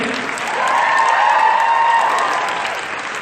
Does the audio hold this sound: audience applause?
yes